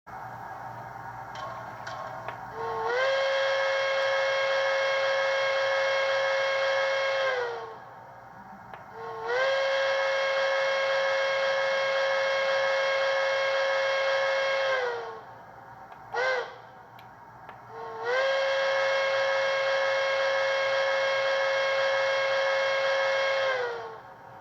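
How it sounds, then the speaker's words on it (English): Bachmann HO scale Berkshire steam locomotive with DCC sound, Pere Marquette 1225, sounds a grade crossing whistle sequence: two long chime blasts, a brief toot, then a final long blast, loud and close. "we'll go ahead and do a grade crossing whistle sequence"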